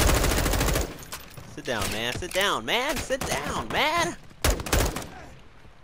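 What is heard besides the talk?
gunfire in Modern Warfare 2 campaign, video game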